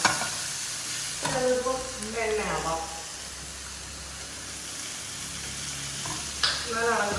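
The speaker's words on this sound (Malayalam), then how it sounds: "ശേഷം നന്നായിട്ട് വെളിച്ചെണ്ണ ഒഴിച്ചിട്ടുള്ളത് അപ്പോഴത്തേക്ക് നമ്മുടെ മസാല കിടന്നിങ്ങനെ ഇങ്ങനെ ഇങ്ങനെ സെറ്റ് ആവുന്നുണ്ട് അതൊന്ന് ഇടക്കിളക്കി കൊടുക്കുക" Masala fries in coconut oil with a steady loud sizzle while a spoon stirs and scrapes the pan in intermittent strokes, someone talking over it.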